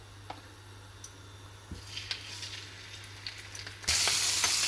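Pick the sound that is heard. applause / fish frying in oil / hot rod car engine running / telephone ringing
fish frying in oil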